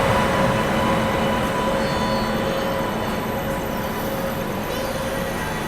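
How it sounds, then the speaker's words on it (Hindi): Train 12182, the Dayodaya Express between Jabalpur and Ajmer, rolls into platform 2 at a station with a loud, steady rumble and faint metallic whine that holds evenly throughout. "इधर प्लेटफॉर्म नंबर 2 पर ट्रेन नंबर 12182 अराइवल ले रही है"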